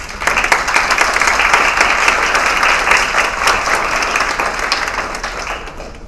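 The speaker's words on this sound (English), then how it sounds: "Maybe first of all, a clap of hands for that." An audience applauds at a Jessup moot court simulation after the counsel finish their arguments: a dense, steady burst of many hands clapping together for about six seconds, easing slightly toward the end.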